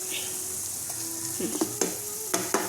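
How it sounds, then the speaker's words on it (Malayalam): Tomatoes, onions and brinjal frying in a pan for a Kerala-style prawn dish give a soft steady sizzle, broken by several sharp stirring scrapes and clinks of a spoon against the pan, with no talk. "നമ്മൾ തക്കാളിയും സവാളയും എല്ലാം കൂടി നന്നായിട്ട് വരണ്ടുകൊണ്ടിരിക്കുകയാണ്"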